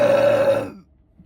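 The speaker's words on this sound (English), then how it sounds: "y'all know I burp from anything" A single loud, close burp after drinking Mountain Dew Gold soda, a short throaty belch that cuts off abruptly into silence.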